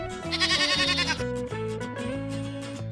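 A goat bleats in one loud, trembling, wavering call lasting about a second, followed by light background music.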